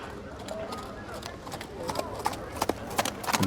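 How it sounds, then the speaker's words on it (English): A dappled horse's hooves clip-clop closer, faint at first and growing into sharper, louder strikes toward the end, over a steady murmur of voices and background noise. "Soon there is a clip-clopping sound."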